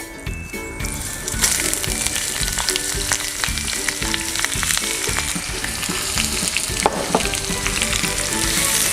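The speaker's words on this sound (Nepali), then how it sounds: "अनियनलाई हल्का भुट्ने" Sliced onions sizzle loudly in hot oil with whole spices such as cinnamon, a dense continuous frying crackle with occasional stirring clinks, while cooking a goat meat curry.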